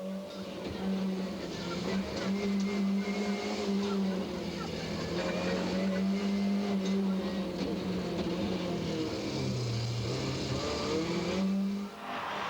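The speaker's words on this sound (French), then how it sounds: "nous emmène à bord de sa BMW M3" A BMW M3 rally car heard from onboard at the 1999 TAC Rally in Tielt, its engine droning loud and close with rising and falling revs and gear changes, while a voice talks over it.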